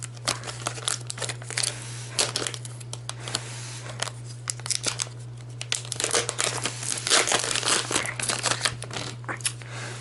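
Plastic wrappers crinkle and tear as small card packs for the Villages of Valeria board game are opened, a close, busy rustling in uneven bursts over a steady low hum.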